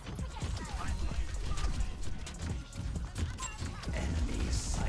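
Horse hooves clatter in Overwatch 2, a busy run of clip-clop beats mixed with gunfire, game effects and voices, loud and close throughout.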